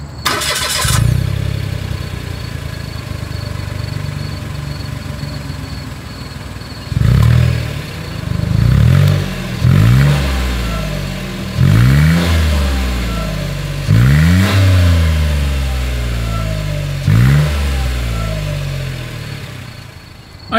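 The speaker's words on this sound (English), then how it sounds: "As always, here is that exhaust clip." A 2024 Mitsubishi Mirage engine starts, idles, then is revved repeatedly in short bursts, each rise and fall of exhaust note clear and close.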